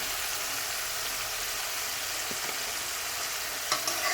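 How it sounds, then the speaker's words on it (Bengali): Turmeric, cumin and chili powder masala fries with fish and eggplant in a pan, producing a steady, moderately quiet hissing sizzle with a few stirring clinks near the end. "মশলাটাকে ভালোভাবে কষিয়ে নেব"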